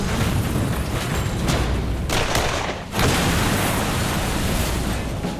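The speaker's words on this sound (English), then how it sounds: "I love a good explosion." A practical explosion set off on a television set roars as a loud, broadband blast that fills the space, with a sharp fresh burst near the three-second mark and rumbling debris throughout.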